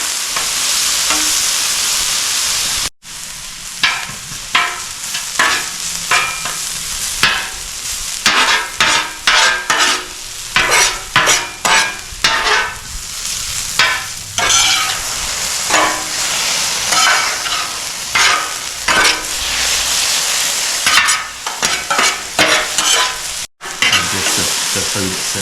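Vegetables cook on a Blackstone griddle with a loud steady sizzle broken by rapid scraping and chopping strokes of a spatula against the flat top.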